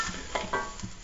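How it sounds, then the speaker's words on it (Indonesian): Fish frying in oil in a wok, with hot oil spooned over the uncooked top: a steady crackling sizzle broken by a few louder scraping, splashing bursts, close and without talk. "kita lagi goreng itu ya, bagian atas ikan yang belum kegoreng, yang belum kena minyak itu sama kita disiram-siram kayak gini"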